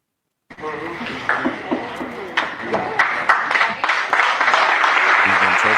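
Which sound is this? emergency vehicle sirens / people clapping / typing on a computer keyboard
people clapping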